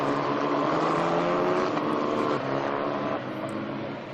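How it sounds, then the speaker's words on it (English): Race cars pull away on the warm-up lap at the Portimao circuit, a dense, loud blend of engines droning together and gradually fading slightly as the field moves off. "It's the field getaway now on their warm-up lap to start this final race of the weekend."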